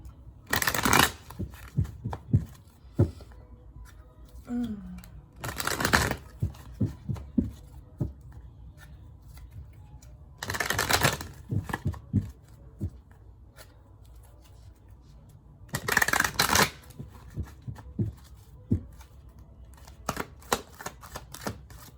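Tarot cards are shuffled and riffled in four loud, dense bursts spaced several seconds apart, with quieter taps, slides and card flicks between them, close up and without talk.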